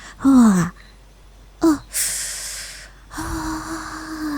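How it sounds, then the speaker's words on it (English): A young woman does calming breathing exercises in a close-miked Halloween roleplay: a few sharp gasping inhales and drawn-out sighing breaths with short gaps between them, one breath briefly voiced. "it's just some breathing exercises to calm me down"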